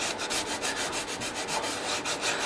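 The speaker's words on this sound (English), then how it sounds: "So I'm taking some 320 through and sanding it," Wooden body of a custom 12-string dreadnought guitar being hand sanded with 320 grit sandpaper, with quick, even back-and-forth rubbing strokes, close and alone.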